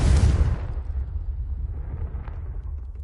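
Explosive spell cast in Hogwarts Legacy, a single loud, close blast that opens with a sharp burst and then fades into a long low rumbling decay.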